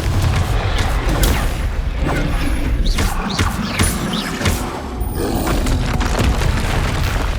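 A Confringo blasting spell explodes in Hogwarts Legacy on PS5, giving loud booming blasts and crackling roars over a continuous rumbling game soundscape, with sharp impacts scattered through the stretch.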